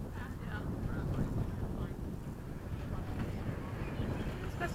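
Low, continuous wind rumble buffets the microphone at a model-aircraft flying field, with gusts rising and falling steadily throughout and faint voices in the background.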